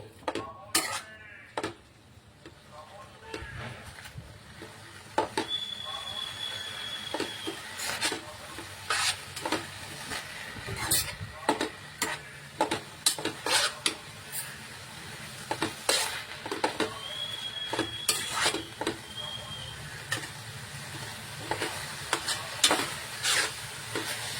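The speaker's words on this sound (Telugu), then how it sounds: "గోంగూర ఆయిల్లో మంచిగా మగ్గి మెత్తగా అవుతుందండి" Gongura leaves frying in oil in a pan for Telangana-style gongura chutney, with a steady sizzle and repeated scraping, clinking stirs of a utensil against the pan throughout.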